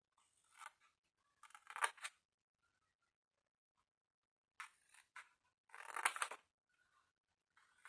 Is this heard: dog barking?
no